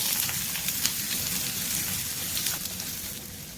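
Sliced onion frying in hot coconut oil for a Kerala-style fish pollichathu, a steady close sizzle with light crackle running throughout, no voices.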